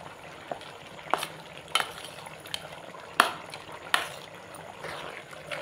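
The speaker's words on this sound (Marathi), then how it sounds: "थोडासा पाणी घालतलं आहे आता, तर मिक्स करून घेऊया." Village chicken curry with ground masala paste and a little water is stirred in a pot, a spoon clinking and scraping in irregular knocks over a soft bubbling simmer.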